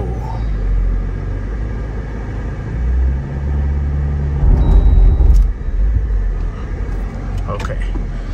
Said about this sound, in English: My wheels are spinning.